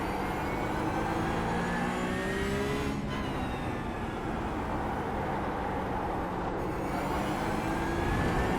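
A Porsche 992 Cup car engine in the iRacing simulator, a loud, sustained rasp that rises in pitch under acceleration with two brief gear-change dips, steady and close with no talk.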